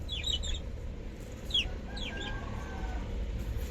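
Chickens cluck and chirp faintly at a quiet rural goat and chicken farm, a few short calls over a low steady background hum, with no talking.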